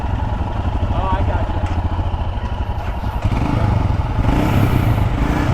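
A 2022 Royal Enfield Himalayan adventure motorcycle engine idles with a chugging, pulsing beat, then revs up with a rising, rougher roar, close by.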